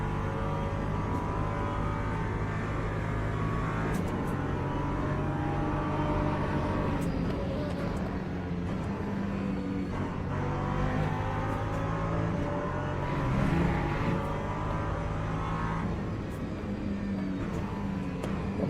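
LMP2 prototype race cars in Le Mans Ultimate at Silverstone, engines droning and whining through gear changes as cars come through, a steady mechanical roar under intermittent commentary.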